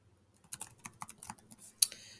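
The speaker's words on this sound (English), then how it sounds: "I'm just going to type" Fingers typing on a computer keyboard, soft irregular key taps in short bursts ending with a louder clack, quiet and close with no talking.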